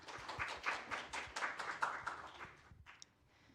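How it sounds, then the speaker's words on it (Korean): Sparse, moderately quiet applause from a small audience at an international technical workshop, welcoming a speaker, with distinct individual claps that thin out and fade after about two and a half seconds, followed by a faint tap or two. "여러분 따뜻한 박수로 환영해 주십시오."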